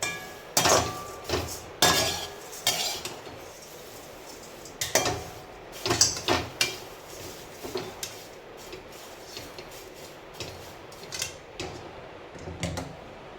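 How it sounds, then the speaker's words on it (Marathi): Metal utensil scrapes and clinks against a pan in irregular bursts, a spoon stirring dried onion over low heat, fairly faint with no talking. "कांदा तर एकदम सतत असा हलवत राहा आणि मंद आचेवर भाजणे"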